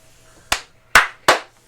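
Three distinct, loud hand claps from three people, spaced unevenly and close to the listener, each with a short ringing decay, in an otherwise quiet room.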